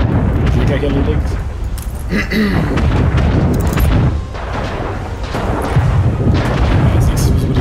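Cannon and artillery booms from a naval battle between sailing ships in the strategy game Anno 1800, loud and repeated under continuous heavy rumble, with someone talking over the fighting.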